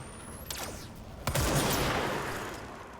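Gunfire in the video game Control: a couple of sharp shots, then a louder blast that trails off into a dense, sustained rumble.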